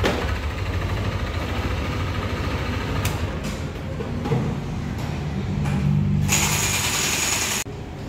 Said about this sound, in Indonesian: untuk suara kasar atau engine noise ini kita diagnosa awal